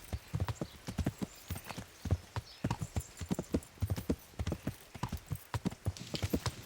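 Horse hooves clip-clop steadily on the ground in Kingdom Come: Deliverance, a regular rhythm of sharp, close hoof strikes continuing for several seconds.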